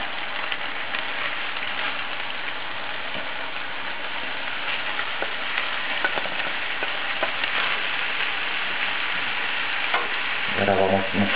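Shrimp and fish stirred as they fry in a pan for a stuffed piquillo pepper filling, a steady close sizzle with scraping utensil clatter throughout and a brief burst of louder stirring near the end; no talking.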